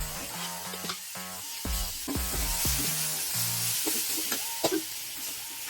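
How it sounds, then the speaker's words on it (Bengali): Chopped tomato sizzles in a pan with frying garlic, onion and chilli, a steady close hiss broken by short scraping stirs and soft clinks, with a faint tonal hum in the background. "আবার একটু নাড়িয়ে কাটা টমেটোটা দিয়ে"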